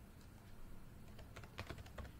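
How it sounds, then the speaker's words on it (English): A URL is typed on a computer keyboard into a web browser's address bar as a short burst of soft, faint clicks over a steady background hiss, with no talking. "open your internet browser and in the URL tab type Lumanu"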